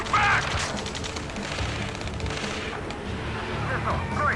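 Gunfire rattles through a firefight in Ace Combat 7: Skies Unknown, dense overlapping shots and bursts under shouted radio chatter, steady and loud throughout.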